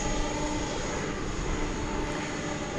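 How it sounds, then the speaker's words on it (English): Airplane at DFW Airport at night, a steady, distant engine roar that holds level throughout without any break. "will this plane take off on 18 left, or will it go over to the east side of the airfield"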